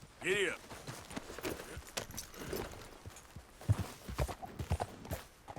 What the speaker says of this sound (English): Ah, o cavalo tá aqui. Vamos lá, cavalinho.